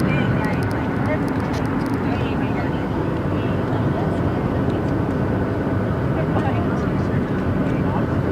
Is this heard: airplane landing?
yes